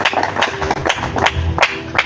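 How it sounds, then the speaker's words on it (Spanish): A church congregation claps loudly and rhythmically, with quick, even hand claps close by, repeating steadily over a low murmur of voices. "Fuerte ese aplauso al Señor."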